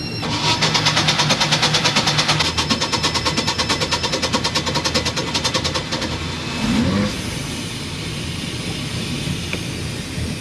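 The engine of a 1999 Formula 280 Sun Sport boat revs loudly with a rapid pulsing throb, then drops back to a steadier, lower idle hum.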